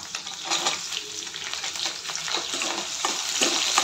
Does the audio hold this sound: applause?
no